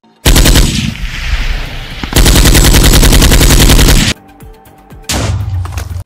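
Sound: cannons firing in a video game

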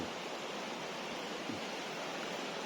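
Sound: cool flowing water

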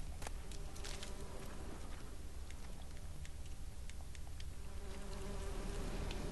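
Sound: buzzing bees in video game The Witcher 3

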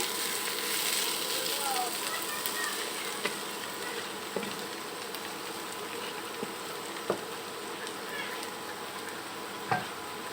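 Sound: radish bhaji frying in a pan

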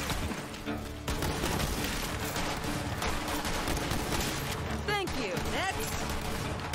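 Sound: gunfire from enemies in the video game Borderlands 3

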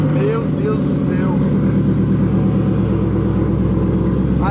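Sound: car with straight-pipe exhaust revving

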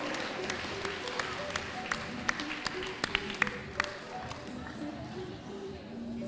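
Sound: audience applause at a horse auction

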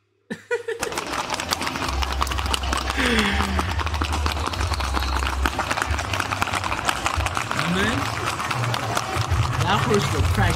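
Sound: albino horse

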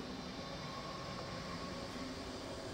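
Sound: train passing in video game XCOM 2

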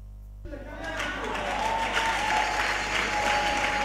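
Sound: church congregation applause

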